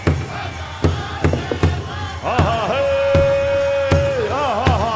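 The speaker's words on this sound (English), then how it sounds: "big round of applause" A crowd cheers and whoops at a powwow grand entry at the 2018 Gathering of Nations, with a long sustained vocal cry, scattered sharp hits and excited voices filling a loud, close space.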